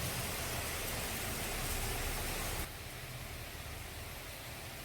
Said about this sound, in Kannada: ನೋಡಿ ಎಷ್ಟು ಜೋರಾಗಿ ಮಳೆ ಬರ್ತದೆ.